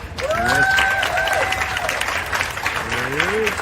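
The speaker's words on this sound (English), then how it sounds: "Please give him a round of applause." Audience applause welcoming a speaker at a recovery event, steady clapping from a crowd with a voice speaking over it and a few cheers or whoops rising above the claps.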